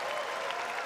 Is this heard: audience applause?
yes